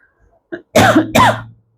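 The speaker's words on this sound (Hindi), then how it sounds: "अगर बीच में मैं यूँ खाँस रही हूँ तो I can't do anything, right?" A woman with a sore throat coughs twice in quick, close bursts, preceded by a small throat sound, loud and near with no talk over it.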